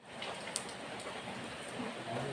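Rain falls steadily in a continuous soft hiss, with a single brief drip or tap early on and no voices.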